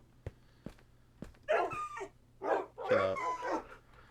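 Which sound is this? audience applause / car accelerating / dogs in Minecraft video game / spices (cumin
dogs in Minecraft video game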